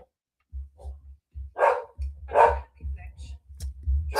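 A pet dog barks in short bursts, two louder yelps standing out, over a low indoor hum with faint voice-like sounds between.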